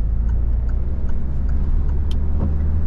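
A car accelerating during a driving lesson: a steady, loud engine drone with road rumble held throughout, and faint ticking sounds over the top.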